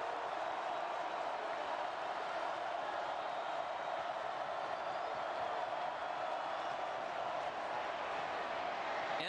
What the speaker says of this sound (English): If you're Georgia, get that crowd noise going